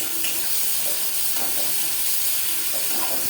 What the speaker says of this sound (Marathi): आता हे वाटण मी ह्याच्यामध्ये टाकते आणि चांगले याला असं परतून घेते